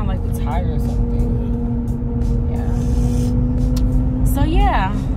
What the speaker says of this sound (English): Oh, it just sounds like the tire or something.